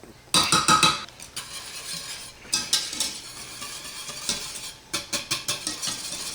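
Truffle pate is whisked into Alfredo sauce in a pan, giving rapid clinking strokes of a whisk against the pan in several bursts, loud and close, with no talking.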